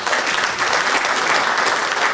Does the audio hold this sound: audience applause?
yes